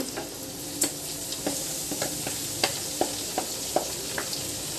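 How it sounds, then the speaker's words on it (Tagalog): Banana blossom sautéing in oil for dinuguan, with a dense continuous sizzle and light scraping stirs ticking through it at an uneven rhythm, close-up with no voices. "Tapos, igisa natin hanggang maluto yung puso ng saging"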